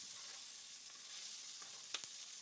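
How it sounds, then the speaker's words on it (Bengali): Sliced pointed gourd (potol) fries in hot oil with a soft, continuous hiss, faint and close, with one or two brief clicks near the end. "এবার একই তেলে দিয়ে দিচ্ছি কেটে রাখা পটল"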